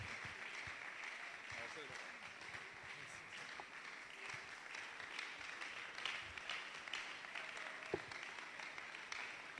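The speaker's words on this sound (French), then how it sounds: "Sous nos fortes, puissantes et onctionnées acclamations, nous invitons le recteur" A church congregation applauds to welcome a preacher, a steady spread of clapping with scattered louder claps and shouts, moderately distant under a faint hum.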